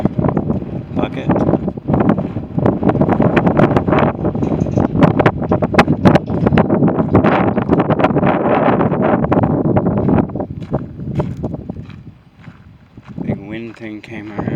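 A strong gust blows in the historic Eldorado Canyon near old mine caves, roaring and buffeting the microphone for several seconds before easing off, with voices faint underneath.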